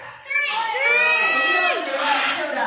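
A crowd of children in the audience at a parrot show at Longleat shouts out a number together, a loud burst of high young voices that swells and holds before breaking into scattered cheering.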